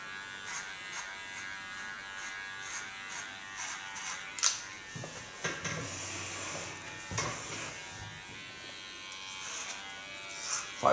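An electric hair clipper buzzes continuously while cutting a boy's hairstyle, close and steady, with a few brief clicks and louder bumps as it works along the hair; no talking is heard.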